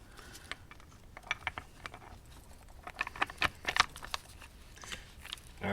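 Spider gears with thrust washers are spun by hand into an 8.8 Trac-Lok differential, giving faint, close metallic clicks and ratcheting ticks in irregular bursts against quiet background.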